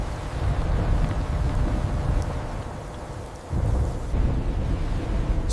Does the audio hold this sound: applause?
no